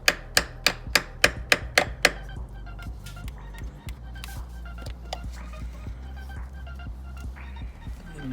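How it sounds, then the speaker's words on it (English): A hammer taps a flathead screwdriver against a VCT solenoid on a Ford 5.4 engine, with seven sharp, evenly spaced metallic strikes followed by a run of softer, irregular taps over a low hum. "I'm going to get it out with a flathead screwdriver and a hammer"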